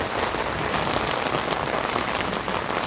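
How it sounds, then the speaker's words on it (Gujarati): Heavy rain pours down on Dubai streets in a dense, unbroken hiss of drops striking the ground, loud and steady throughout with no voices. "વરસાદ ચાલુ છે"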